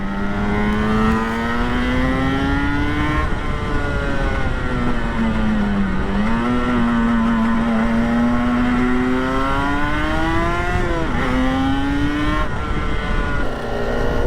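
Kawasaki ZX-4RR sports motorcycle ridden gently during run-in, its high-pitched engine droning loud and continuous, the pitch rising steadily with brief dips at gear changes.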